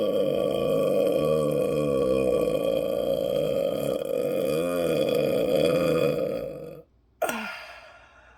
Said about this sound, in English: one more burp and that's it for all